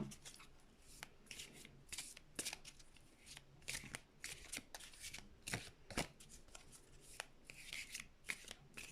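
Oracle cards shuffled by hand make a run of quick, close riffling and sliding rasps in irregular bursts, soft overall and with no talking.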